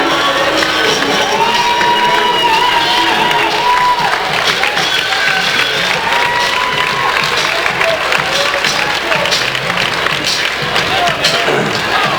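A packed crowd at a county high school basketball game cheers and shouts continuously, loud and dense, with children's voices and scattered whoops and claps mixed in.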